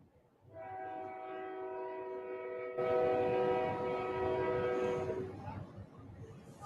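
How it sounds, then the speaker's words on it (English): A train on tracks along Welborn Road sounding its horn in one long sustained chord that swells and then cuts off, with rumbling rail noise underneath and faint crowd murmur from a nearby football game. "as the train makes its way down Welborn Road."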